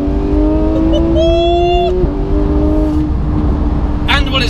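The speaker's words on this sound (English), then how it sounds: "what it's like living with a Sharkworks exhaust. Fantastic! Every press of the throttle in this thing." A Porsche 991 GT3 with a Sharkworks exhaust revs up with a high, sustained engine tone that climbs and then dips, loud and close, with road noise underneath and a brief second rise at the end.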